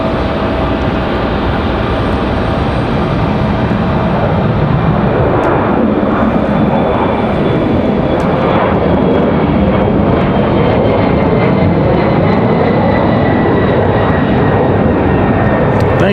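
A jet airliner departing Raleigh Durham airport for Austin roars loud and steady throughout, its engine noise sweeping slowly in pitch as it climbs away, with faint talk underneath.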